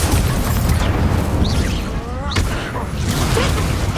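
A fire spell cast in Hogwarts Legacy gives a loud, sustained roaring rumble with whooshing swells and a brief dip in the middle, steady and close, with a voice talking faintly underneath.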